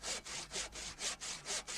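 A hand saw with a triangular frame cuts excess wood from a log beam in steady back-and-forth strokes, about eight rasping passes in quick regular rhythm, close and alone.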